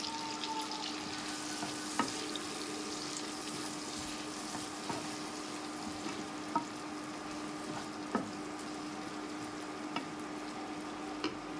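Large-cut onion pieces frying in oil for a fish fry, a soft, quiet steady sizzle with occasional faint clicks and taps of a utensil.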